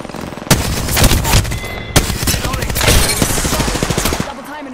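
Rapid automatic gunfire in a heated Apex Legends firefight, dense bursts of shots and sharp impacts running almost continuously, loud and close, with a player's voice talking faintly underneath.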